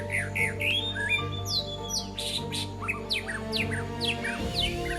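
Several birds chirp and whistle in quick, overlapping calls, bright and close, over a low steady hum in a forest on Bali.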